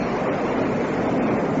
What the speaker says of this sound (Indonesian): Memang indah sekali air terjun ini.